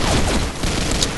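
Rapid bursts of M21E rifle fire from the shooter Combat Arms blend into a loud, dense, continuous barrage with no pauses and no voices.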